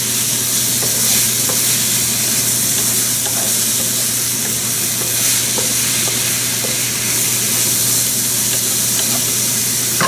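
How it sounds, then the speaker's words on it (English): Onions sizzle steadily in a frying pan, a continuous close hiss of frying broken by occasional spoon scrapes and stirring clicks, with no voices. "Cook it for about a minute. You don't need to cook the onions fully."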